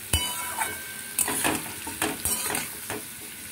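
Cauliflower florets and potato pieces sizzle and fry in spiced oil for a sesame-paste cauliflower dish, stirred in repeated scraping bursts roughly every half second to second, close and loud with steady frying underneath.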